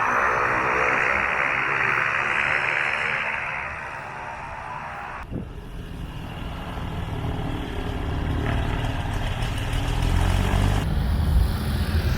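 An L-39 Albatross jet at an air race event runs its engine before takeoff, a loud, steady roar and whine that dips briefly midway and then swells again.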